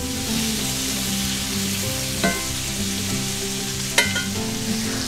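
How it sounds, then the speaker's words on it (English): Chopped sweet onion and minced garlic sizzle steadily in a hot pan, a constant close frying hiss with two brief sharp clatters of stirring partway through, no voices. "We're just gonna cook these guys till they get a little translucent or have just a small amount of brown on the edges of the onion."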